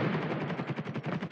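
Rapid automatic gunfire rattles in a dense burst in Call of Duty Warzone as the player is hit, loud and continuous for just over a second without any speech.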